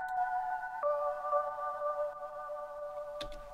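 A soft, sustained synth chord holds steady beneath faint crackly noise, distortion and bit-crushed grit, then a short click near the end.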